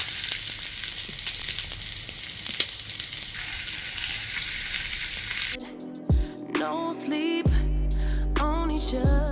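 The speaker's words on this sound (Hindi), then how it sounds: "वो सारे वेजिटेबल्स एक साथ हम हल्के से फ्राई कर लेंगे" Vegetables fry and sizzle steadily in a pan for several seconds, then the noise drops away and a few sharp tonal chirps and thumps follow.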